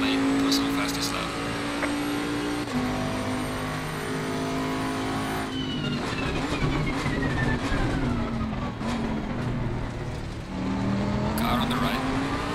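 A Ferrari GT3 race car roars close behind in Assetto Corsa Competizione at the Nürburgring, its engine droning and shifting pitch alongside the pursued Bentley GT3, with a voice talking over the racing noise.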